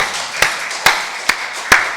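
A church congregation at a Sunday worship service claps in unison, four sharp, evenly spaced claps about half a second apart over a soft room background.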